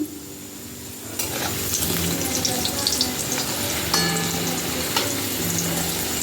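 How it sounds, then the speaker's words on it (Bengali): Continuous crackling sizzle of potatoes frying in hot oil, close up, with occasional clinks of a utensil stirring in the pan. "আলুগুলো ভাজা হয়ে এসছে লাল লাল করে"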